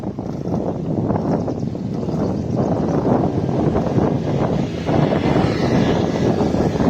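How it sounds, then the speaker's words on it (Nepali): Strong headwind buffeting the microphone during a riverside bicycle ride, a continuous heavy low roar and rumble that stays loud and unbroken throughout. "यो हावा अपोजिट डाइरेक्सन हानिरहेको छ"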